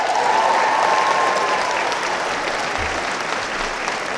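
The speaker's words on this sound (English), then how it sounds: "let's give a great applause to a great creator" A Comic-Con panel crowd applauds for Star Trek creator Gene Roddenberry, a large hall filled with sustained, dense clapping at an even level from start to finish.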